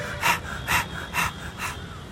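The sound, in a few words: imitated heavy breathing after running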